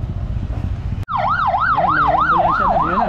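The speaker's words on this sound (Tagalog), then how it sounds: "Ayan, may ambulansya na." An ambulance siren wails up close after a sharp break in the background noise, a loud oscillating whoop rising and falling in quick regular cycles, following a dump truck crash on a road.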